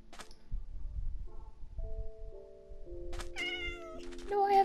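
A cat meows in the video game Minecraft, a few short tonal calls near the end over a low game background, with sustained synth tones drifting underneath.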